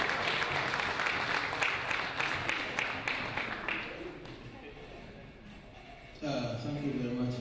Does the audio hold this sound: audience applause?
yes